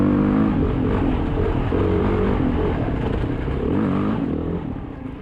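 BMW dirt bike engine pulling hard out of a tight hairpin on a dirt track, a steady loud buzzing drone with rising revs, close and continuous, fading slightly at the end.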